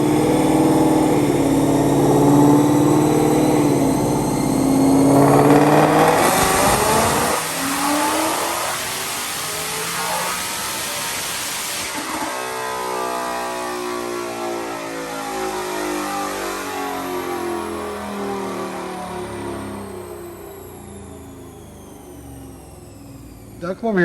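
A 2021 Ford Mustang GT with an automatic transmission, Whipple supercharger, E85 fuel and headers revs hard on a dyno, its loud engine climbing in pitch, cutting out, then winding up again, with voices faintly mixed in.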